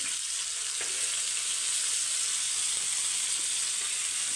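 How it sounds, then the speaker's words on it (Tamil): Fish frying on a cast-iron dosa griddle, a steady dense sizzle that holds loud and even throughout with no talking. "மீன் வறுத்துக்கலாம்னு சொல்லிவிட்டு இப்போ நான் வறுத்துட்ருக்கேன்"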